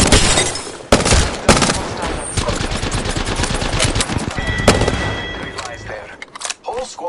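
Rapid automatic gunfire in an online squad-based shooter game, loud dense bursts of shots with sharp individual cracks, tapering off near the end, with faint talk mixed in.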